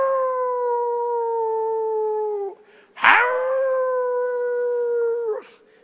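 A voice imitates a dog howling with two long, loud, sustained wails, each holding steady before trailing off, separated by a brief gap, with no other sound around them.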